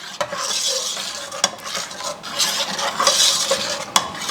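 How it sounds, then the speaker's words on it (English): Egusi seeds roast over low heat in a pan while a utensil stirs and scrapes them, giving a soft dry rustle with sharp clicks against the metal. "You roast your egusi on a low heat"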